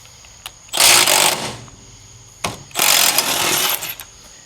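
A bolt is loosened with a wrench on an S550 Mustang's rear suspension, giving two bursts of rapid metallic ratcheting, each about a second long and each set off by a sharp click, close up.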